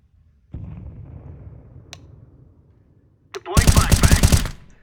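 Video game shooter battle sounds: a muffled grenade rumble and a single sharp crack, then a loud, rapid burst of gunfire close by.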